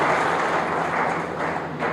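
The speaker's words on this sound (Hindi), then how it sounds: "जोरदार तालियों से आप स्वागत करेंगे" A crowd applauds steadily, a dense wash of clapping that holds at an even loudness throughout.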